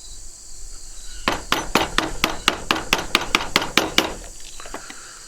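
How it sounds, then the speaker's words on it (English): Small pieces of wood are worked and pried out of a bucksaw part. About a dozen sharp, evenly spaced taps or knocks sound up close, with no talking. "I'm just taking it in little pieces"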